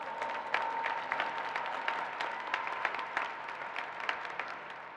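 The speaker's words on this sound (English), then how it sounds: "we should give another round of applause to all three recipients" Applause at a college commencement for three award recipients, a moderate crowd clapping steadily with distinct individual claps standing out, set against a faint steady hum, at fairly low level.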